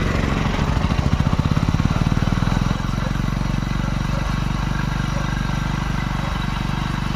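Running in gear on its central stand, a Hero HF Deluxe motorcycle engine chugs steadily nearby, its fast even beat slightly harder for the first few seconds, then settling into a smooth continuous drone.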